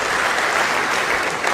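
Loud, dense applause from a large audience during a standing ovation for King Charles in the U.S. Congress chamber, sustained clapping throughout with no pauses.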